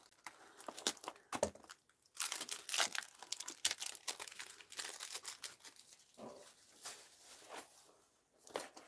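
Paper from a piece of mail being cut and handled, with crisp snips, crinkling and rustling at close range in irregular bursts and short pauses, fairly quiet, with no talk.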